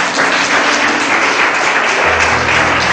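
Church congregation applauding during a sermon, a loud, dense, continuous roll of clapping that fills the few seconds without pause.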